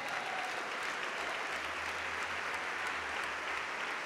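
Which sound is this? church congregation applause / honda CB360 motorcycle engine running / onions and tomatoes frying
church congregation applause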